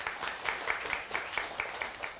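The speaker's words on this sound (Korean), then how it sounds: "박수 한번 쳐주세요." A small audience claps together in a steady, fairly quiet round of applause lasting a couple of seconds, with no voices over it.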